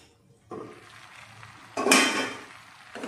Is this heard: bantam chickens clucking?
no